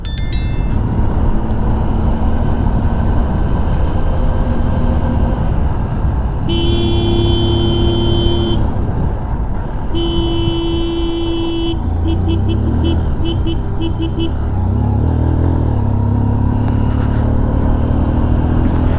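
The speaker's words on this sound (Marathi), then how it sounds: "रस्ता भरपूर छोटा असल्यामुळे हॉर्न देणं गरजेचंच आहे" Horns honk repeatedly on a narrow mountain ghat road over a continuous motorcycle engine drone: two long blasts, then a burst of short rapid toots, with road noise throughout.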